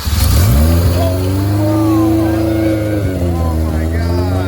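A car engine starting for the first time: it cranks and catches, then holds a loud, rough idle with a couple of revs rising and falling, close by.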